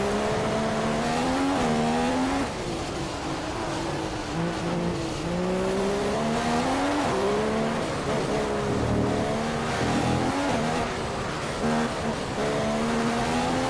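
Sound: F1 race car driving a lap in the video game F1 2015

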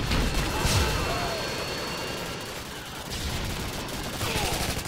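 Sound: gunfire in Modern Warfare 2 video game

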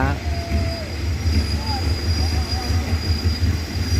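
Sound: Hitachi locomotive passenger train passing through Lopburi station

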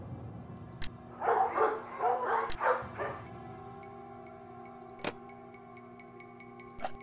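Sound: dogs barking in Nancy Drew video game

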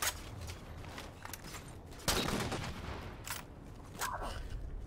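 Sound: gunfire shooting sniper enemies in Halo 4 video game

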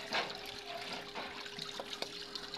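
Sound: water rinsing an induction cooker board

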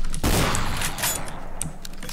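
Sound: gunfire in video game Garry's Mod

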